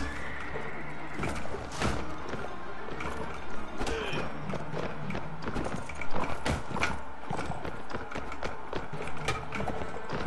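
A horse galloping and jumping in the video game Mount and Blade Warband, with a steady run of clip-clop hoofbeats and sharp thuds over constant background noise.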